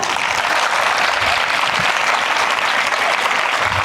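Children clapping at a children's fair during a memorial festival in Ambajogai, a loud, continuous burst of applause from a large group that holds steady throughout.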